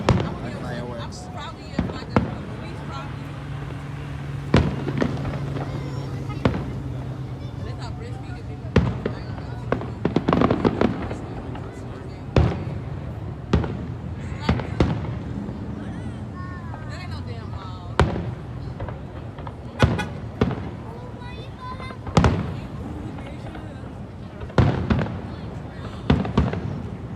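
Fireworks show bursting in repeated sharp bangs and crackles at irregular intervals, some loud and near, others softer, with a low rumble between and people's voices murmuring in the background.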